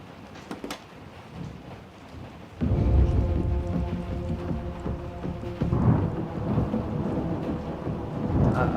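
Rain falls in a TV scene, then a loud rolling thunderclap breaks in and keeps rumbling over a steady downpour, with a second swell of thunder toward the end.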